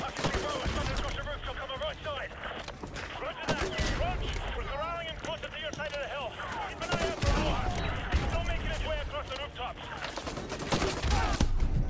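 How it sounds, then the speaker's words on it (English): Gunfire in the Call of Duty Modern Warfare 2 Remastered campaign: scattered sharp shots crack out under nearly continuous talking against a busy battle background. "there is a dude down there shooting me"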